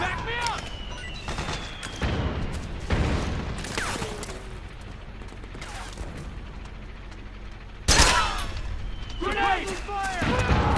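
Gunfire from the Metal Gear Solid 4 video game, with scattered bursts and single shots spread across the stretch, one loud blast near the end, mixed with game effects and a voice talking over it.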